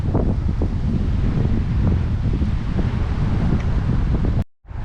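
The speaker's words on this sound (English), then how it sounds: "The wind is brutal." Strong night wind buffets the microphone in a steady loud roar during salmon fishing, gusting throughout before cutting off abruptly near the end.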